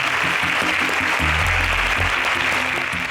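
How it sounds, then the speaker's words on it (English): A studio audience at an agricultural science quiz contest applauds the contestants with steady, dense clapping that carries on throughout, over a low background hum. "A round of applause for you."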